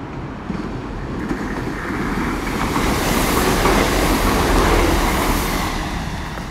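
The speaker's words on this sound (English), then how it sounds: "coming through now will be a Great Eastern Railway Service to Portsmouth Harbour from Cardiff" A Great Eastern Railway turbo diesel unit running from Cardiff Central to Portsmouth Harbour passes at Millbrook on the South Western Main Line, a loud continuous rumble with rhythmic clickety-clack over the rail joints that swells and eases slightly as it goes by.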